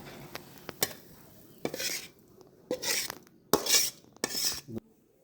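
Cooked taro greens (kochu shak) being scraped and poured out of a metal pot, with several separate bursts of scraping, clinking and sliding food, no talking.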